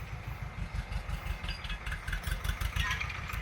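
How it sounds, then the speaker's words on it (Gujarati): Tractor engine running steadily while pulling a soil-ridging implement behind it, a rhythmic low throb at moderate distance with no speech. "આ આપણે પારા ચડાવવા માટેનું સાધન એક એવું ઓજાર છે ટ્રેક્ટર પાછળ"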